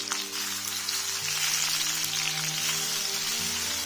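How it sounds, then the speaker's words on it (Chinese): Mushrooms and pork stir-fried over high heat for a Cantonese clay-pot baked pork dish produce a steady, crackling sizzle that hisses on evenly from start to finish, with no voices. "炒制的时候我们用大火来给它翻炒"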